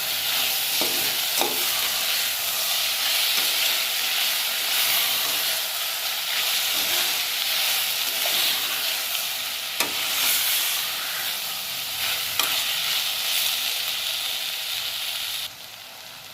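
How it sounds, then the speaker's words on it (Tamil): Chopped large tomatoes sautéing in a pan for mutton gravy, a dense, loud, hissing sizzle throughout with a few scattered utensil taps, no speech, and the hiss easing slightly at the very end. "2 பெரிய தக்காளி அரிஞ்சு வச்சுருக்கேன், அதை இதில் சேர்த்துடணும். சேர்த்து வதக்கணும்."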